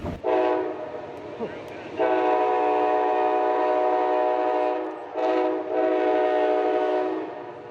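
Amtrak passenger train passing near a station in Montgomery, West Virginia, blasting its horn in long loud tones with a brief break, over a low rumble of rail cars.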